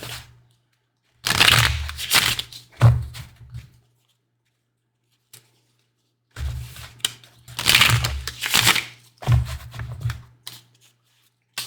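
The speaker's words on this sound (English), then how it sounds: "But this deck is pretty easy to shuffle," A deck of tarot-style reading cards being shuffled by hand in two bursts of quick riffling and patting, close and crisp, separated by a short quiet pause.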